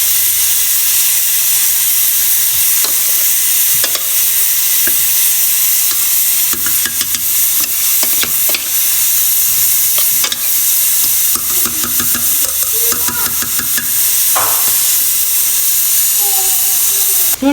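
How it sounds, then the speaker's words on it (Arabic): Meat frying with onion in a pan for couscous, a loud continuous sizzle and hiss with occasional stirring scrapes and clinks, close up, with brief faint talk partway through. "تلزمها هذيك اللحم نقليه مليح مع هذه البصله"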